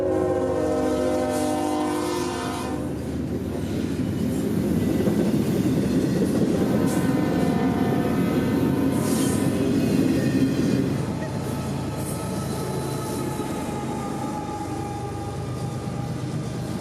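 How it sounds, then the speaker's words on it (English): An intermodal freight train rolls past in daylight, its horn sounding loud at the start and again near the end over a rising rumble and roar of wheels and cars. "I-177, a pre-dawn usual through here, would show up just after 2 p.m. this day, making for a rare midday intermodal."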